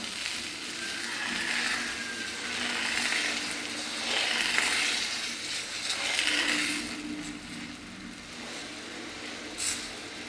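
Tomato dosa frying on a hot pan gives a steady, soft sizzle that holds for about ten seconds, close by, with no talking.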